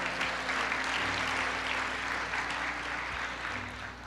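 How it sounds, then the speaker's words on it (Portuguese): A church congregation claps together, a broad steady wash of applause that carries on evenly for a few seconds over a low background hum. "Você pode aplaudir"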